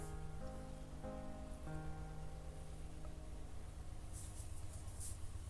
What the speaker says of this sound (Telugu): భారీ వర్షం పడుతుంది. It is raining heavily.